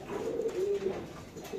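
A pigeon at a pigeon farm gives soft, low, repeated coos, faint and fairly close, with no talking.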